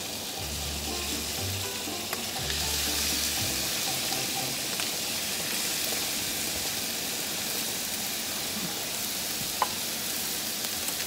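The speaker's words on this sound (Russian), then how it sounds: "Мясо немножко поджарится, потом лучок брошу" Meat sizzles steadily in a hot new frying pan, a constant crackling hiss with a few faint clicks and low rumbles in the background.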